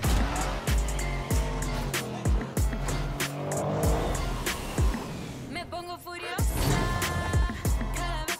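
Cars in the Rocket League Nissan Skyline trailer, a video game, rev and roar with repeated tire squeals and skids over a pounding musical beat, loud and busy throughout.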